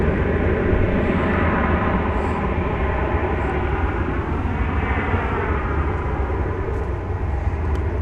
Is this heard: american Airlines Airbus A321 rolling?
yes